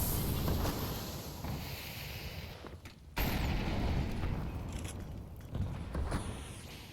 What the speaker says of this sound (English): Nice stalling incendiary there by Twinkie